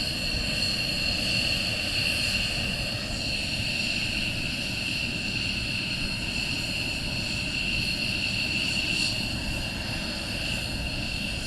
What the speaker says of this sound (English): we'll pan it over to the KC-135 that's going into Mildenhall